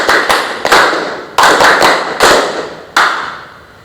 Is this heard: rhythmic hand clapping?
yes